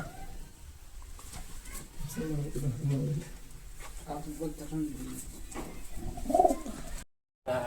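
Girebaz pigeons cooing softly in low, rolling calls at a loft, mixed with people talking nearby and a brief dropout near the end.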